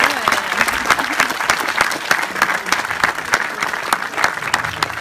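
An audience applauds guests from Holland at a Jaws 3D screening event in Thionville: dense, continuous clapping from a crowd, steady and fairly close throughout.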